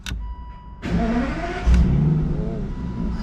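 An Aston Martin Virage engine fires up and revs, rising and falling in pitch at close range, with a brief whine just before it starts.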